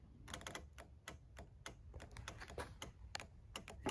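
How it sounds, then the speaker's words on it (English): Car horn relay clicking as its control side is tested, a rapid series of small sharp clicks and taps close by, fairly quiet and uneven in rhythm. "And this relay is clicking."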